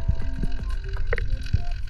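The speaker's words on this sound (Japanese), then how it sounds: "これは船の音ですね。" A distant boat engine is heard underwater in the Sea of Japan, a faint buzzing drone with scattered low thumps and clicks around it.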